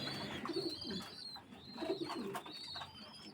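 Teddy breed pigeon chicks and other pigeons cooing in a loft, with repeated low rolling coos and a faint higher whistling tone in the background, moderately close and without talk.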